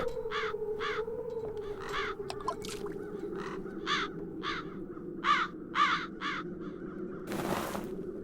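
Crows cawing in The Dark Eye: Chains of Satinav adventure game, a steady series of harsh, evenly spaced caws over a low ambient drone, ending in a brief noisy burst.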